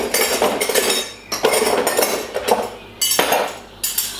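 A bowl and kitchen knives clink and clatter loudly up close as they are taken out, in several bursts of rattling metal and ceramic separated by short pauses.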